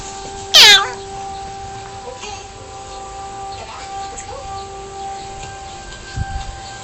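A single short, high cat meow rings out near the start over a faint steady hum, followed by quiet background noise.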